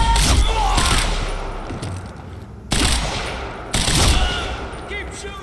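Dense gunfire in the video game Quantum Break rattles in loud, sustained bursts, pausing briefly twice before resuming with renewed force.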